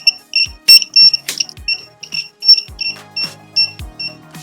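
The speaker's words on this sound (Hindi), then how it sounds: "ये बजर यहाँ पे बीप करेगा" A homemade alarm model's buzzer beeps in a quick repeating run of sharp electronic tones, close and loud, with clicks and knocks from the nut-and-bolt contact being moved between beeps.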